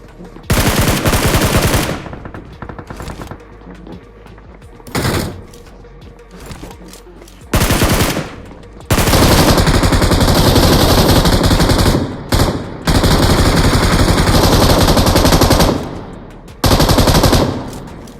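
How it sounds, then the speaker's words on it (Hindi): Bursts of automatic gunfire from BGMI PUBG Mobile gameplay, loud rapid machine-gun rattles in long and short volleys with brief quieter gaps between them, sharp and close. "अब यहाँ बाहर पे बहुत जोर से तो गोली चल रही होती है"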